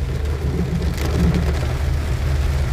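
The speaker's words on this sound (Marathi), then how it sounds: "अतिशय जोरात पाऊस आहे" Very heavy rain on a narrow, steep mountain road near Nainital, Uttarakhand, with runoff streaming along the road, a dense continuous roar with a low rumble beneath and no talk.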